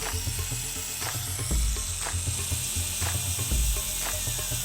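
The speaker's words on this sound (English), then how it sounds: "At the push of a button, the grinding arm tilts through 60 degrees and can be easily adjusted at the desired angle" The tilting grinding arm of a Proxxon BS/A cordless belt sander ratchets through its angle settings, giving crisp mechanical clicks at a steady rhythm of about one per second over a constant low motor hum, close up and with no voices.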